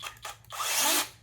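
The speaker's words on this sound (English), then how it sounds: "this is a electric chainsaw." A small portable electric mini chainsaw running, a brief burst of high, buzzing motor whine that rises and holds steady for about half a second, close and fairly loud, after a couple of short starts.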